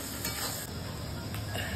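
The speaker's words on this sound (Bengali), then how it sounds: "তেলের মধ্যে যে পেঁয়াজটা দিয়েছিলাম হয়ে গেছে লাল লাল ভাজা" Onions frying in hot oil for a mutton curry, giving a steady, even sizzle with soft crackle throughout, close and continuous with no talking.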